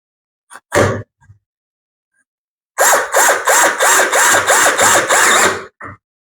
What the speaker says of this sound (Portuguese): Essa parte aqui é a parte que eu preciso parafusar nessa madeira para ela fazer a junção e ficar bem firme.